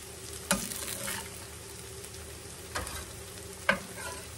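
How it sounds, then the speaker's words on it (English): Homemade hash browns fry in hot oil with a soft, steady sizzle close by, broken by a few sharp pops and clinks of a utensil. "I'm going to put him over here in that hot oil."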